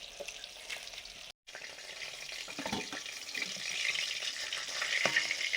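Rui fish frying in hot oil, a soft steady sizzle with faint clinks, building slightly louder, with one brief gap of silence early on.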